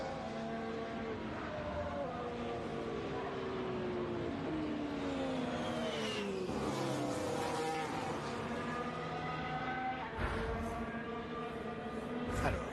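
Formula 1 cars lap the track during second practice at the 2021 French Grand Prix, a continuous high engine whine with several overlapping pitch sweeps as cars pass, heard at a moderate distance.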